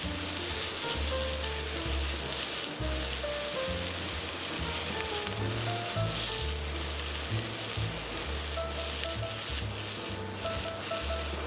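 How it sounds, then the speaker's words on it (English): Smoked salmon fried rice sizzles steadily in a pan as it is tossed, giving a continuous crackling hiss that resembles rain, with occasional louder scrapes and no talking. "Then add back the rice and toss it all together to mix."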